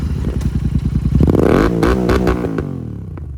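A Royal Enfield Interceptor 650 motorcycle with an aftermarket exhaust revs hard up close: a rapid pulsing idle climbs into a loud, rising roar, then drops away with popping and crackling from the exhaust.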